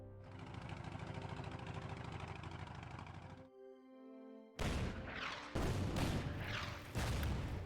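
Artillery piece firing in the Order of Battle: Red Star war game, a sustained dense rumble of fire followed after a short lull by several loud, sharp blasts in quick succession.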